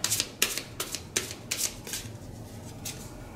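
Tarot cards are shuffled in a series of quick riffling bursts, about six crisp flutters close by in the first half, then trailing off into soft handling sounds with no voice.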